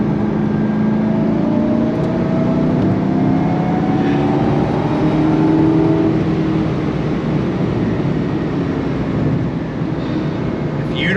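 The engine of a 2005 Ford GT manual supercar accelerates with a loud, steady roar that climbs in pitch, heard from inside the car during a ride.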